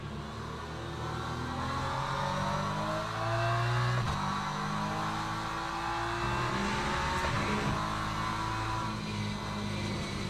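A McLaren race car engine in the Le Mans Ultimate racing game drones and revs steadily at high pitch, with shifting engine tones and a swell mid-way, loud and continuous with no talk.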